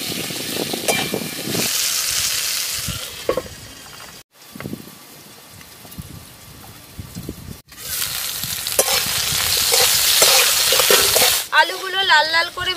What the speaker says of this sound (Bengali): আলুগুলো লাল লাল করে ভাজব